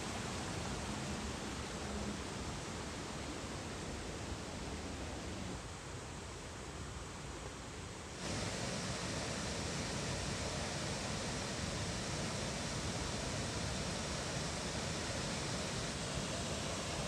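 Constant broadband roar of rushing water from Abrams Falls in the Smoky Mountains, steady and enveloping, with no voices.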